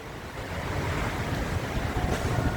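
Heavy rain pours outside a mall in Molo, Iloilo City, heard from the second floor, a dense, even hiss mixed with gusty wind, continuous throughout with no talking.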